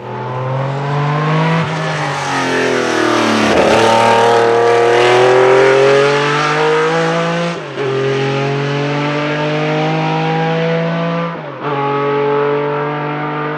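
A four-rotor rotary Le Mans race car engine revs loud and close, its sustained, harmonically rich howl rising and falling, with brief dips near the eighth and twelfth seconds before it climbs again. No one speaks.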